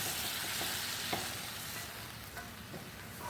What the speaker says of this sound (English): I'm going to get that all stirred up.